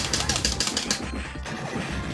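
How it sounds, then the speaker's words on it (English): Glass containers shattering in the arcade beat-'em-up Ninja Baseball Bat Man, a burst of loud, bright smashes and thwacks in quick succession over busy game music and effects. "We can break open those glass containers for certain things."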